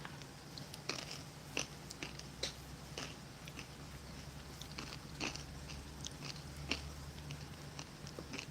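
Crunchy topping from a 2021 Halal US MRE barley stew with lamb being chewed, faint close crunches and bites at irregular intervals over a low steady hum, with no talking.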